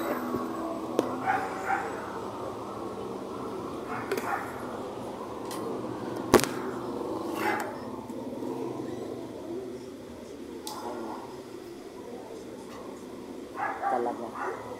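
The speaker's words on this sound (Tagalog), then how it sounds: "Tahol na ng tahol." A hungry dog behind a house barks repeatedly in short, spaced bursts, somewhat distant over a quiet ambient background.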